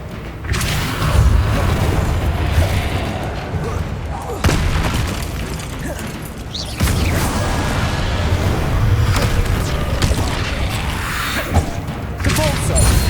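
Repulso spell in Hogwarts Legacy, cast amid combat: loud booming thumps recur several times over steady game noise, punchy and close, with occasional voices.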